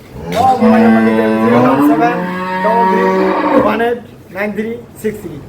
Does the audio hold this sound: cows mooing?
yes